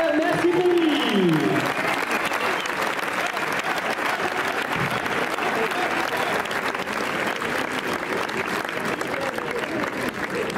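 Sustained applause from an audience at an award presentation following a race in Mauguio, a dense, steady wash of clapping lasting throughout, with a voice speaking briefly at the start.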